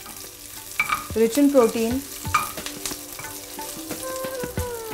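Crushed curry leaves stirred in a pan with a little oil for a ridge gourd and moong dal dish, with spoon scrapes and clinks over a gentle sizzle, close up, while a voice speaks briefly.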